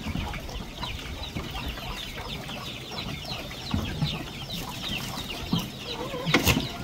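A flock of chickens being fed clucks in a busy, continuous chatter close by, with overlapping calls and a few louder squawks toward the end.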